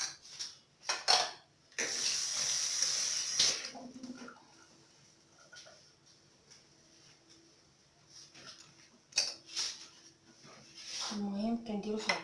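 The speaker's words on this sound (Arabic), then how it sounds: "نغسل يدي ونرجع معكم" Hands washed under a running kitchen tap, bursts of splashing water broken by clinks of dishes and handling noises, close and moderately quiet, with speech briefly.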